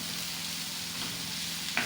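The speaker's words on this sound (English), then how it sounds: "What I'm frying right now is my leek, spring onion, green peas, carrots that I'm frying." Leek, spring onion, green peas and carrots fry in a pan, a soft, steady sizzle heard up close, with a faint clink near the end.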